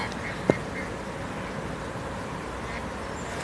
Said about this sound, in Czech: To jsou kachny.